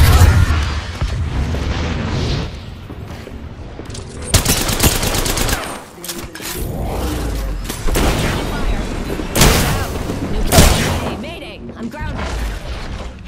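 Video game combat: loud machine-gun bursts and heavy booming explosions in overlapping waves, close and intense.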